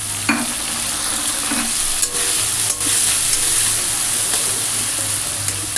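Chopped tomato hits a pan of frying onion and green chilli, a steady loud sizzle with stirring scrapes on top, continuous throughout with no voice.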